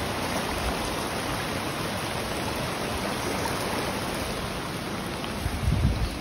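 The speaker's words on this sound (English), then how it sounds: "Current that's going down the river at the moment." A small river, a burn, in flood, its current rushing in a dense, continuous roar that stays loud and close throughout.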